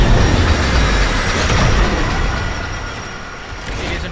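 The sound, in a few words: train arriving at a station in the video game Warframe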